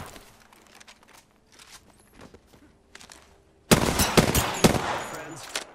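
Gunfire in Apex Legends, quiet clicks and light footsteps at first, then an abrupt burst of loud, rapid automatic shots that continues close and dense to the end.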